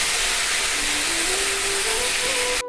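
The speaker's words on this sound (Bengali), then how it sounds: "আমি 2 মিনিট একটু ভাজা ভাজা করে নেব" Soaked rice sizzles in hot oil in a pot while cooking chicken khichdi. A loud, steady frying hiss runs throughout, with a faint rising whine underneath, and cuts off abruptly at the end.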